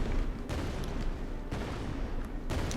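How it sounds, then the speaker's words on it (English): Explosion sound effects fired from a turret in an Unreal Engine 5 game project, three loud broadband blasts about one second apart, each with a rumbling tail, and no talking. "I think if I play now, it's gonna show the explosion sound effect."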